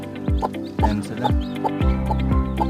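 Newly hatched native chicken chicks peep in repeated short chirps, with a deeper clucking bird sounding regularly underneath, close and fairly loud throughout.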